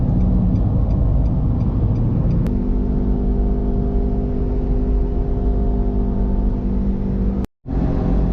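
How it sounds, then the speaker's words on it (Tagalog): Car with newly fitted racing tires driving on a Metro Manila road toward the Skyway, a loud steady engine drone and tire roar with a brief dropout near the end. "Pagka-racing ng aming gulong kaya ganyan tunog."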